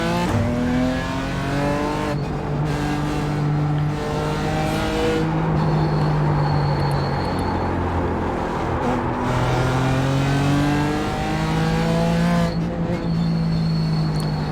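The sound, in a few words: BMW GT4 race car engine in iRacing video game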